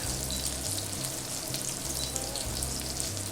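German Frikadellen flat meatballs frying in oil in a cast iron skillet, a dense, continuous crackling sizzle heard up close with a faint low hum beneath and nobody speaking.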